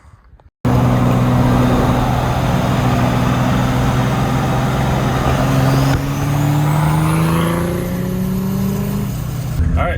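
Turbo diesel 2JZ-swapped Datsun 240Z starting and driving, a loud close engine drone with steady low tones that rise in pitch as it accelerates through the gears.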